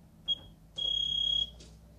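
A workout interval timer gives a short high electronic beep followed by a longer sustained tone, clear and fairly close in a quiet room.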